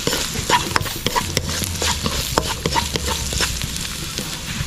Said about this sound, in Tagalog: Meron tayong sibuyas, bawang, luya. Sabay-sabay na nating igisa to.